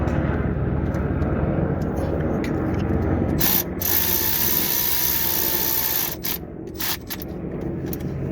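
A tiny 4mm socket on a ratchet works the small sump studs of a Ford Transit Connect, giving close, rapid mechanical clicking that pauses briefly and then resumes.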